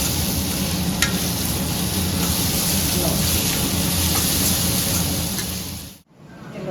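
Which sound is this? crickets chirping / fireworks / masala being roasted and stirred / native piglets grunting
masala being roasted and stirred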